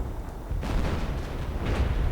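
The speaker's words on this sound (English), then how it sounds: "And artillery just keeps blasting away." Artillery fire in a 2v2 war strategy game keeps booming as a steady rumbling barrage, with a heavy blast arriving around the middle and dense low thuds continuing throughout, loud and without voices.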